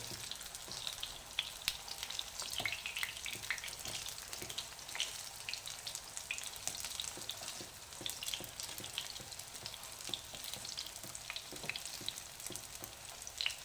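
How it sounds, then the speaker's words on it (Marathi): Steady sizzling of potato patties pan-frying until golden on both sides for street-style ragda patties, a continuous faint crackle with soft scattered pops and no talking. "दोन्ही बाजूनं सोनेरी रंगावर येईपर्यंत आपण व्यवस्थित भाजून घ्यायचे."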